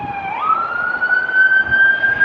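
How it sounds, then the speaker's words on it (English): Emergency vehicle siren in a city street, a single wailing tone that rises sharply then holds and slowly climbs, clear and fairly close over faint traffic rumble. "siren."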